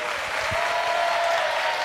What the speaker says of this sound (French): Je vais vous demander de l'applaudir le temps pour elle de s'installer.